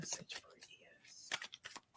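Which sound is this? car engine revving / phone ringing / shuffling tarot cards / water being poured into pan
shuffling tarot cards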